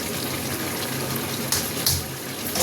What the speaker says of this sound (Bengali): একটু জল দিতে হবে